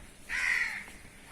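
A single crow caws once, fairly close, at a village home where crows come down to pick at grapes. The harsh call is short and stands alone against quiet background.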